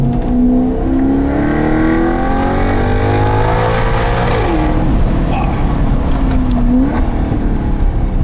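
Maserati GranTurismo Sport V8 engine revving and accelerating on the road, loud and close, with rising and falling pitch sweeps through gear changes over a steady engine drone.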